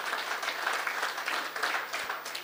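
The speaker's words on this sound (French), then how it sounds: "j'ai pas besoin de vous demander d'applaudir" An audience at a grand finale event gives sustained, even applause, a dense wash of many hands clapping throughout with no break.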